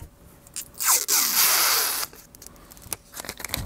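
Close crinkling and tearing of paper wrapping, a loud rustling burst that swells for about a second, then fades to softer scattered handling noises.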